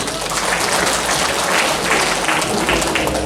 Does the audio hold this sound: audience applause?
yes